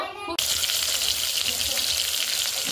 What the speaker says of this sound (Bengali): দেখুন এই আলুটি আমি ভেজে নেব